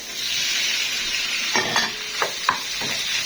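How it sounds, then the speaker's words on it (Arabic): Alexandrian-style beef liver added to onions already sautéed for five minutes, a loud, steady close sizzle with a few scraping stirs and clinks near the end. "شوحنا البصل اهو 5 دقايق، ننزل بالكبده"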